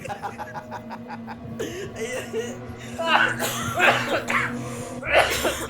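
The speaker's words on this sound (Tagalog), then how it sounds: "umubo na lahat" A few people cough and chuckle close by, with short bursts of laughter and throat clearing mixed among voices.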